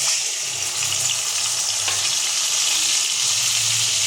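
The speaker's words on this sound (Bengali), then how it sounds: "আলু ভাজার মধ্যে আমি মশলাটা পেস্টটা দিয়ে দেবো।" Spice paste frying with potatoes in a pan for a Bengali mung dal bora curry, a steady broadband sizzle with faint stirring, continuous and close throughout.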